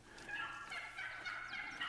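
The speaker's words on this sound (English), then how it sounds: "Okay, we have turkeys." Wild turkeys gobble in the video game Hunter Call of the Wild, on a desert ranch map in Mexico, with several overlapping gobbles and chirps heard at a moderate distance.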